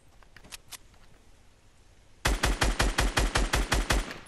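Automatic gunfire in Fortnite: after a quiet stretch with a few faint distant shots, a loud close burst of about a dozen evenly spaced rapid rounds.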